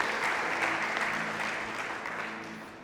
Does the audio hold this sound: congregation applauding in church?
yes